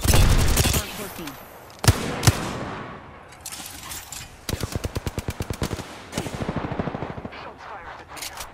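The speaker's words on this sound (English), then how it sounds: "Shots fired at me." Machine gun fire in a shooter video game: a heavy opening volley, a few isolated shots, then two rapid rhythmic bursts of automatic fire over faint background game noise.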